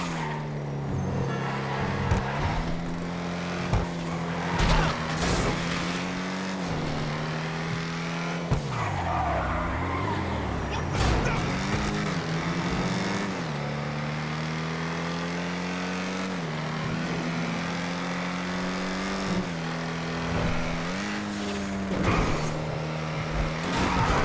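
An Emperor Vectre, the Lexus RC F in GTA Online, revs its engine loudly and continuously, the pitch climbing and dropping with repeated gear changes and occasional tire squeal throughout.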